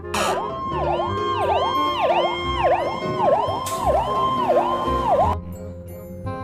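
A toy fire truck siren wails in a steady repeating up-and-down pattern, loud and close, cutting off near the end.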